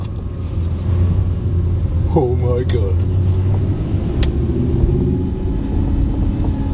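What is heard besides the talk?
supercar engine rumbling in car park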